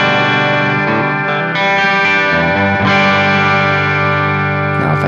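An electric guitar plays through a Tweed Deluxe 5E3 amp simulator set fairly clean, with sustained chords ringing with warm harmonics and a slight edge. It continues steadily at a strong level with no voices.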